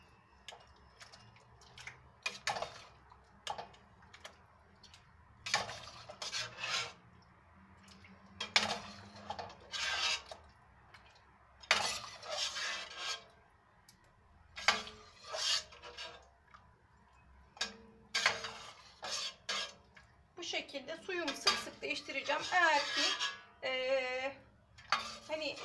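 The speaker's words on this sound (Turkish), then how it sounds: "Şu tenceremi de alacağım" Intermittent clinks and scrapes of metal cookware being handled, bursts of clattering separated by short pauses, with faint background hum.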